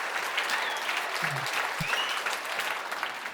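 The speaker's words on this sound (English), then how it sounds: "Please give her a round of applause." An audience at a business talk on the longevity economy claps in a dense, continuous burst of applause, fairly close and steady throughout, with a couple of brief low thumps.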